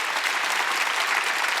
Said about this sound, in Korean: 박수 치려면 지금 할래.